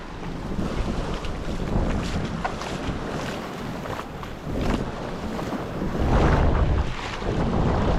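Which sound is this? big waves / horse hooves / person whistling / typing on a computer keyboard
big waves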